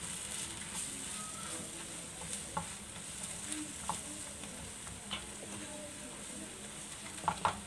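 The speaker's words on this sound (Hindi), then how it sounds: "इसको अच्छी तरह से भून लेंगे।" Spiced potatoes with powdered chili fry in a pan, giving a faint, even sizzle with occasional soft stirring clicks and scrapes.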